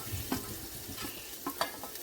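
Chopped onion dropped onto green chillies frying in oil for a Maharashtrian chilli curry, a quiet sizzle broken by a few soft stirring scrapes and clatters, close but faint, without talk.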